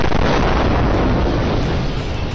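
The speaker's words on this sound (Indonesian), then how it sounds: "Tubuh pahlawan tersebut mengalami ledakan yang sangat besar." A loud, sustained explosive roar fills the sound, a dense rumbling blast that slowly trails off.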